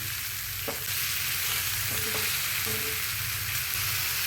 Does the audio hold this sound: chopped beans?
yes